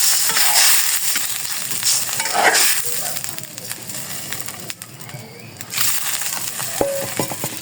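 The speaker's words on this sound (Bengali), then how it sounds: "এভাবে ভেজে নেব।" Bean curry fries and is stirred in a pan, giving a bright, steady sizzle broken by scraping strokes of the spoon, while a pigeon coos faintly in the background.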